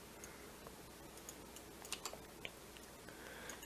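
Faint typing on a computer keyboard, with light, irregular key clicks over a quiet background hiss.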